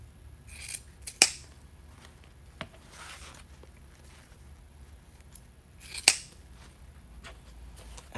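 Scissors snip while a Christmas wreath is trimmed, giving a few sharp, crisp cuts spaced apart over quiet room background, with two especially distinct snips standing out.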